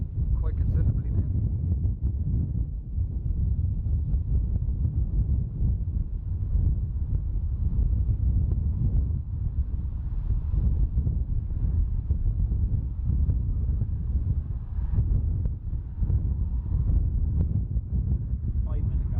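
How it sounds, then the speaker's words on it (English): Strong wind roars across the microphone at Dublin Airport during a planespotting livestream, a loud continuous low buffeting that surges and dips throughout with no clear speech. "So the wind picking up quite considerably now."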